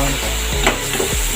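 Chopped garlic sautés in a hot pan for a chopsuey dish, giving a brief, close, continuous sizzle with a couple of soft scraping stirs.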